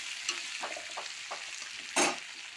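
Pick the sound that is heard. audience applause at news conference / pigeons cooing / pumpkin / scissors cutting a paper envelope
pumpkin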